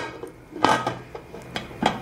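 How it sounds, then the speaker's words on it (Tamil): Metal lid set onto a cooking pot holding sponge cake batter for stovetop baking, a few sharp clinks and scrapes of metal close by, with quieter taps between them. "இப்போ இதை நம்ம மூடி வச்சிடலாம்."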